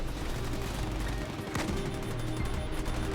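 Distant, muffled gunfire from a Halo Wars 2 battle between Marines and snipers, with one sharper shot standing out against a steady wash of combat noise.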